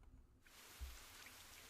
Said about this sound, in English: Oh no! It's raining! A sudden downpour comes on.